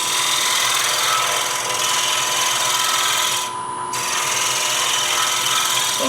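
A woodturning tool cuts into spinning wood on a lathe while shaping a scoop. The steady, close, rough shearing hiss runs unbroken for the whole stretch, easing briefly near the middle.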